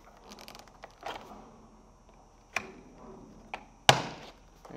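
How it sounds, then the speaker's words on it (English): Plastic door panel clips on a BMW 535i F10 pop free in a series of sharp cracks, the last one loudest, between softer rattles and creaks of the panel being pried away. "And you can hear them just popping out."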